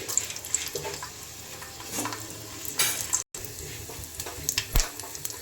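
Dried red chilies and garlic hit hot oil in a pan for a homemade tomato pickle, giving a steady close sizzle with stirring scrapes and a brief break midway.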